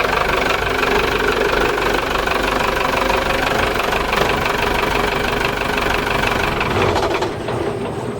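A mechanical diesel engine runs loud and steady with a heavy knocking idle, then falls away near the end as it is shut off manually by a lever.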